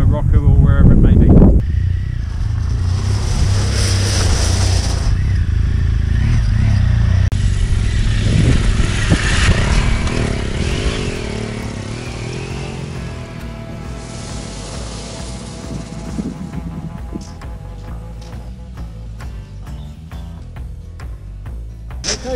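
An adventure motorcycle rides through deep sand and then gravel at an off-road training ground, engine revving loud and close at first then receding under heavy wind buffeting, with someone talking throughout.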